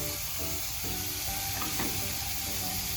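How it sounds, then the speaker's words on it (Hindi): Carrot and capsicum hit a hot pan and sizzle steadily, a loud continuous frying hiss with a brief stirring scrape partway through. "अब हम डालेंगे सब्जियां, गाजर, शिमला मिर्च"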